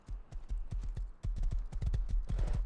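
A horse in the video game Rust trots along, its hooves clip-clopping in a quick, irregular rhythm of sharp, close, loud hits, with no talking.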